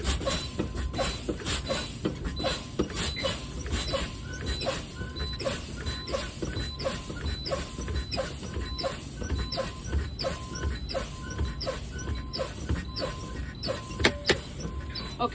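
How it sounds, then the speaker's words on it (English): A truck's air brake system is fanned down until the emergency brake valves pop out, giving a long run of rhythmic short air bursts and clicks over a rumbling idle, with a sharper pop near the end. "I will now continue to fan the brakes until my emergency brake valves pop out unassisted."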